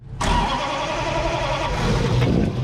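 A turbocharged wagon's engine cranks and catches abruptly, then settles into a loud, steady running rumble close by with no talking.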